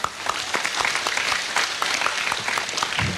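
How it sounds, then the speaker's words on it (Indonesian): Crowd at a mosque inauguration in Ngawi, Indonesia applauding the organizing committee, dense steady clapping throughout, close and fairly loud. "Tepuk tangan untuk panitia."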